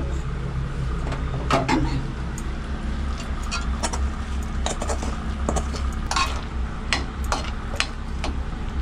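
Repeated scraping and clinking of a utensil stirring soya chunks into gravy in a pan, irregular strokes over a steady low background hum, no voices.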